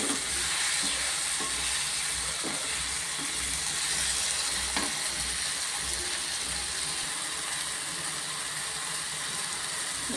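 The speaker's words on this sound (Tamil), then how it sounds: "நல்லா வதக்கிடலாம்." Dried channa kunni fish thokku with turmeric and ginger-garlic paste sautéing in a pan, a continuous close sizzle with steady scraping and stirring of a spatula against the metal, loud and even throughout with no voices.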